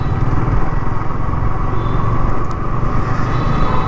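Steady road traffic in India during the Sawan month, motorcycles and cars passing close by in a continuous loud engine rumble with no let-up across the stretch.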